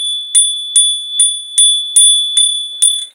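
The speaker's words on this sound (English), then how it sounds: "Gotta hit the bell." A bright metallic bell rung seven times in a steady rhythm, each ding ringing briefly before the next, loud and close.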